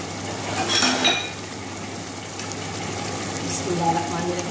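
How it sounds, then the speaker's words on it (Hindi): Fish pieces being added to fried masala in a pot for fish biryani, with soft sizzling, the clink of utensils and a couple of close metallic clatters over a steady background hum. "मसाला अच्छी तरीके से हमारा भून गया है, अब हम मछली के पीस इसमें लग डालेंगे।"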